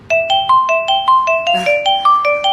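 An incoming call rings on a mobile phone: a clean, loud electronic ringtone of quick repeated two-tone beeps in a steady pulsing rhythm, close to the listener, with no speech.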